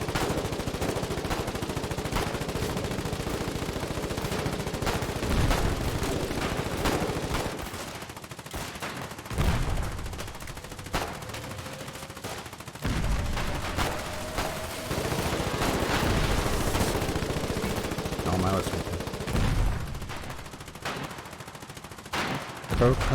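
Gunfire from the video game Foxhole during frontline fighting, with repeated bursts of shots over a dense, steady battle din and some brief speech mixed in.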